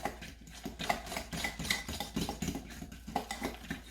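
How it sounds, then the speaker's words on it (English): Dry dog kibble, an egg and coconut oil are mixed in a bowl with a utensil, producing close, rhythmic scraping and clinking strokes with gritty crunching between them, steady and moderately loud with no talking. "And I am going to put an egg and mix it up good"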